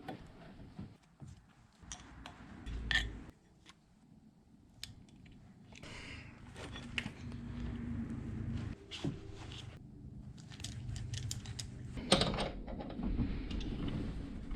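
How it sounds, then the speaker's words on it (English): Hydraulic swivel elbow fittings being fitted to a snow plow bracket for an Artillian hydraulic angle plow, giving a run of close metallic clicks, ratcheting and scraping taps with some handling noise throughout. "what we're going to be doing is installing 2 of the hydraulic swivel elbows"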